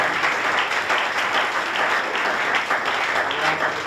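A church congregation claps together in steady, dense applause to acclaim the Lord, filling the room for a few seconds.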